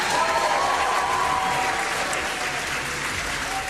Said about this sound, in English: Applause for the splashdown of the astronauts finally back on Earth after being stranded for 9 months in space.